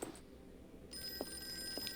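An old-style telephone bell rings in Call of Cthulhu, starting abruptly as a steady bright metallic trill that holds for about a second at moderate volume over a quiet room hum.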